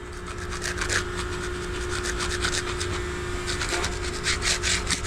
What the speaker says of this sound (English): I'll just work some of the other areas with my scraper here.